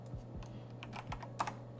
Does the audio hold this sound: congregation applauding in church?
no